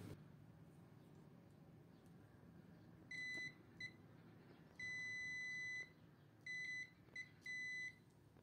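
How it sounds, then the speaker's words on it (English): A multimeter in continuity (beep) mode chirps while testing the coils of a three-phase electric motor: several short, clean electronic beeps, some brief and some held about a second, over quiet room background. "we put the multimeter on the beep mode and test the beginning and end of"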